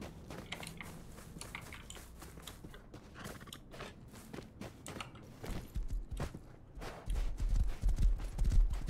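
A horse's hooves clip-clop in an uneven, repeated rhythm in the survival video game Rust, growing louder and heavier toward the end, with no talking.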